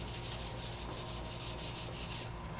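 Sandpaper rubbing back and forth on Mosin Nagant rifle metal, a close, continuous gritty rasp that stays steady for a few seconds with no talking.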